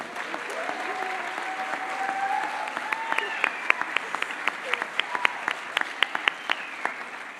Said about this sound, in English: let's give a round of applause to all our who's who's